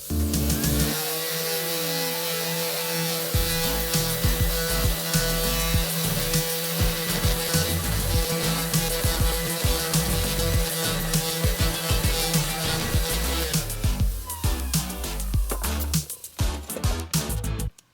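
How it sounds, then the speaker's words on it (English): Power sanding of a rusty drill press, wet sanded at 220 grit with a little WD lubricant in a home shop, a steady loud mechanical whir with rhythmic grinding texture running continuously for most of the stretch before tapering off. "So we'll go up to a 220"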